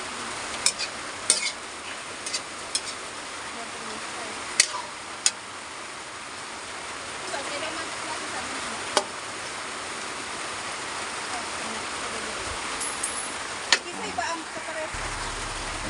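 Chicken adobo sauce with saba banana and bay leaf simmers with a steady bubbling and soft hiss in a pan, broken by a few sharp clicks of a utensil against the pan.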